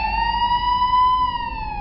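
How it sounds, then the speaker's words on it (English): A single police siren wails with a steady, slowly bending tone, loud and close over a low rumble of traffic, with no voices. "I finally heard the wails of sirens."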